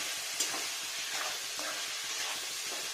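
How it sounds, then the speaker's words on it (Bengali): Chicken pieces frying in ghee for a home-made chicken polow, a steady close sizzle broken by a few soft stirring scrapes, with no voices. "ভালো করে ভাজতে হবে মাংসটাকে"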